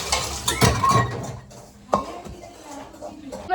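Large utensils, pots and pans being washed by hand, giving intermittent metallic clinks and scraping knocks at close range, with a voice talking over part of it.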